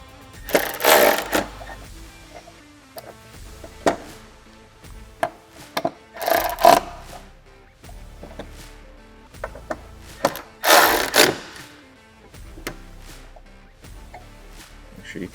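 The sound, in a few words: tightening the hardware on aluminum UTV doors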